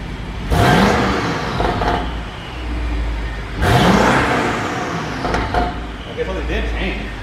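A BMW 550i F10 N63TU engine with new downpipes revs up sharply twice, each rise climbing in pitch before settling back to a rumbling idle, loud and close.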